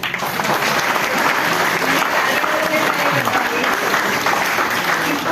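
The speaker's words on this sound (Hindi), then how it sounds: "मुझे कहने की भी आवश्यकता नहीं पड़ेगी कि तालियां बजाइए" An audience at a Hindi poetry recitation gives loud, sustained applause. A thick wash of many hands clapping evenly and without pause, with a faint murmur of the crowd underneath.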